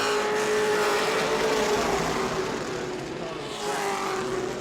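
Race cars at speed on the New Smyrna track, a loud, sustained engine roar with a steady high drone that eases slightly midway and then swells again as cars pass.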